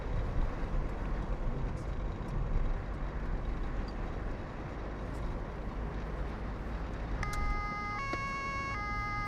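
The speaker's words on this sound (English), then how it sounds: "a little siren action" A German police car on the Autobahn, with loud road and engine rumble filling the clip and a siren's wailing tones entering near the end over the traffic noise.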